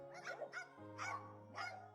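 Three rhythmic, bark-like calls from a parrot imitating a dog, evenly spaced and fairly close, over a steady low background hum.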